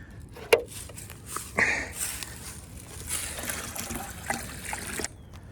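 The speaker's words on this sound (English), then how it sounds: "I'll just wash out some old milk jugs" Water trickles and sloshes in old plastic milk jugs as they are rinsed out outdoors, with irregular splashes and gurgles and a few sharp knocks of plastic.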